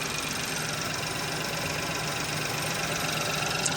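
A 2017 Ford Focus three-cylinder engine idles warm, a steady, even mechanical rumble that holds at a constant level throughout with no other sounds over it.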